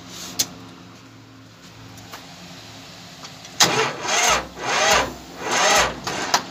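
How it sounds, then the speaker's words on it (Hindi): A tractor with a weak battery is cranked to start after a quiet spell: several loud, rhythmic churning bursts close by, each stopping without the engine catching. "तो अब ट्रैक्टर स्टार्ट करते हैं"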